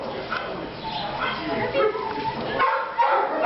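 A large 106-pound dog barks in Los Angeles, its barks mixed in with a person talking nearby through most of the stretch.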